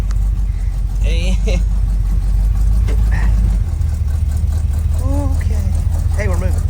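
A Chevrolet Suburban's engine runs steadily with a low rumble as the vehicle starts moving, and people talk over it throughout.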